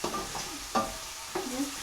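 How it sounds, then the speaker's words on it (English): Potatoes and onions fry in oil over low to medium heat, giving a soft sizzle broken by a few brief stirring scrapes, fairly quiet, with no talking. "These are literally just frying in oil."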